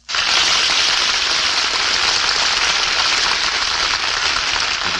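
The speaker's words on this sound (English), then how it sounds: "Did you hear that applause?" Studio audience applause after the last act of a radio play of The Paleface starring Bob Hope and Jane Russell, a dense, steady roar of clapping that starts abruptly and holds at full strength throughout, with no voices over it.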